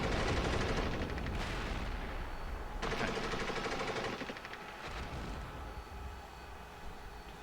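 Dense infantry gunfire in the video game Steel Beasts Pro, with a continuous rattle of overlapping shots and bursts that is loud at first and eases slightly toward the end.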